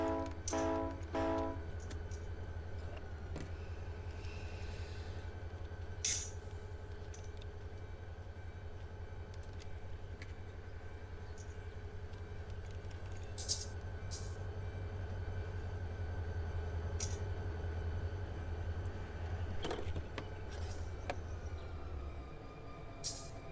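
A freight train in the Run8 simulator reverses with a steady low diesel drone and a sustained rumble, broken by scattered clanks and squeals. Early on a horn-like tonal blast sounds, and later a brief metallic screech, all without speech.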